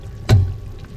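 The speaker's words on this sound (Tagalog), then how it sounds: "At lalagyan na rin natin sabaw." Hot water poured into a pot as broth for Filipino nilagang beef rib soup: a single short, close splash-and-gush burst lasting under a second, then quiet.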